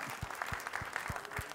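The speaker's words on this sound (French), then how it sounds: "Applaudissez beaucoup pour le Cameroun." Audience applause at a Cameroonian film club screening and discussion, heard as a brief, fairly quiet patter of clapping with a few louder claps standing out.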